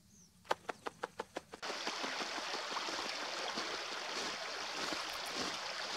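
Steady broadband rush of flowing stream water in the Savukoski wilderness of Lapland, constant and close, preceded by a short series of sharp rhythmic knocks at the very start.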